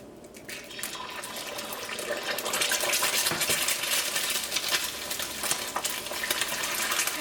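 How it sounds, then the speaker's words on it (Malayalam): Eggs cracked into hot oil, reused from frying chicken, in a thick pan for chicken fried rice, giving a bright, steady sizzle that swells after the first second and continues close and crackling. "ഇതിലേക്ക് മുട്ട ചേർക്കാം."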